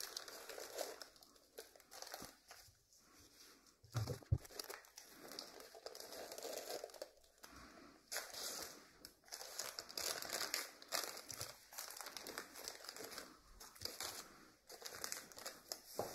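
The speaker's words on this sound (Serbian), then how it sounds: "Kad isečete papir, možete lako izvaditi jednu po jednu koru" Baking paper being cut and peeled away from brittle, dried crusts, giving a steady close crinkling and crackling rustle that runs throughout with small pauses.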